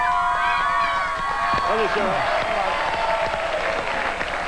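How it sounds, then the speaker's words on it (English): Cowboys rugby league fans at a live 2005 Grand Final show cheer and applaud as a broad crowd roar under a presenter speaking over it. "let's have a big cheer from the Cowboys fans,"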